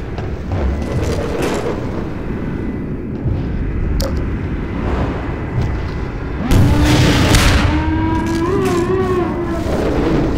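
Rocket explosions in the video game Half-Life 2 Episode 1 boom loudly, with deep rumbling blasts and a heavy burst midway followed by sustained roaring combat noise.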